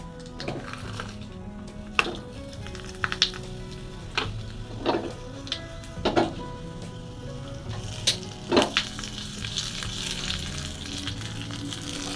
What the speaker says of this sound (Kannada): ಈಗ ಅದಕ್ಕೊಂದು ಒಗ್ಗರಣೆಯನ್ನು ನಾನು ಹಾಕಿಕೊಳ್ತಾ ಇದ್ದೇನೆ